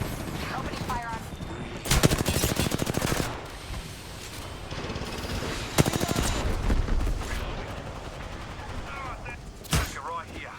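Gunfire in Apex Legends, several bursts of rapid automatic fire fairly close and loud, separated by quieter stretches with game voice lines and a player talking.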